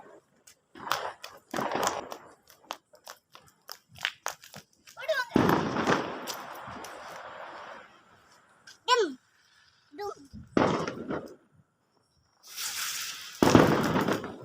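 Diwali firecrackers go off in bursts: sharp cracks, a few louder bangs and longer hissing, spinning fizzes, with children and adults talking and calling out between them.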